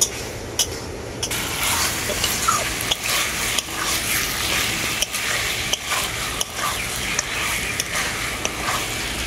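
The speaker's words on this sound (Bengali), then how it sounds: "এরপরে আমি মাংসটাকে খুব ভালো করে কষাতে থাকবো, জল দেব না।" Chicken pieces being stir-fried dry in a pan with no water added, a steady close sizzle with repeated scraping and stirring clicks throughout.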